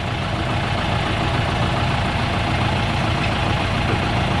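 A John Deere 5080R tractor engine idles steadily up close, a continuous low rumble with broadband noise holding an even level throughout, with no talking.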